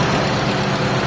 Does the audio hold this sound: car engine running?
yes